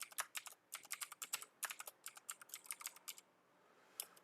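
Typing on a computer keyboard, a quick run of crisp close key clicks in an irregular rhythm, then a pause and a few final taps.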